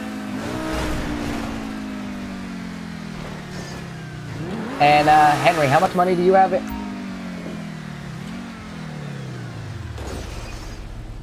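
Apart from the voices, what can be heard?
car engine driving in video game Grand Theft Auto V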